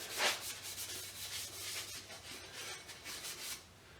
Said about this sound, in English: I might just hit it with a Scotch-Brite.